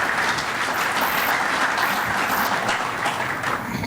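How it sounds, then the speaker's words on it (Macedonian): An audience at a panel discussion on the Macedonian economy and EU and NATO membership gives a steady round of applause. The clapping is continuous and fairly loud throughout, with no talking over it. "Ајде еден аплауз"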